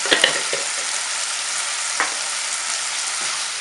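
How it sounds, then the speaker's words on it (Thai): Pork with bell pepper, garlic and black pepper is stir-fried in a hot pan, a constant bright sizzle with scraping clinks of the spatula near the start and another midway. "ก็ผัดทุกอย่างรวมกัน"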